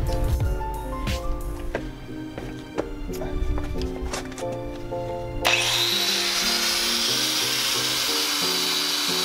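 A wire wheel scrubs rust from the underside of a Jeep, cutting in midway as a steady, harsh, loud whirring hiss that follows tonal, music-like sounds and continues to the end.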